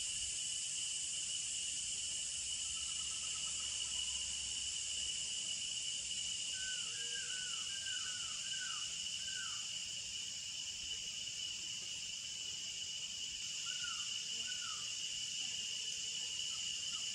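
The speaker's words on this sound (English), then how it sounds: "a constant chorus of cicadas loudly penetrates the woods" A steady, high-pitched chorus of cicadas drones without pause through dry-season woods, with a few short bird whistles breaking through partway along.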